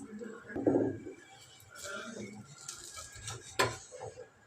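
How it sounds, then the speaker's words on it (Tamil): A lid is lifted off a pan with a dosa cooking on one side, giving metallic clanks near the start and again later, with talk around them. "இப்போ மூடி எடுத்துக்கலாம்"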